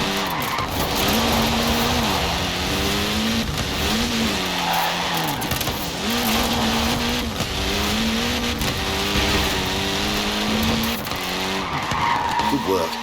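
A Mini car in the Forza Horizon 4 racing game laying down rubber, with a long tyre squeal and skid over a droning engine that rises and falls in repeated revs, with a voice talking over it.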